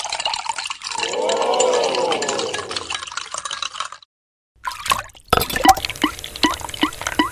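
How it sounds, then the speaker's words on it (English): A small water pump draws water out of a LEGO tank, giving a rushing, gurgling pour that swells and fades, then a brief silence before scattered drips and splashes return. "Water is being pumped out of the tank."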